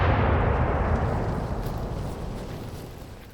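A Hotchkiss 2-pounder mountain gun fires a single loud blast that booms at once and then rolls away in a long, fading rumble, with no talk.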